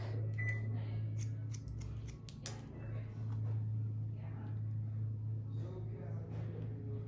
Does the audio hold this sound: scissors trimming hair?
yes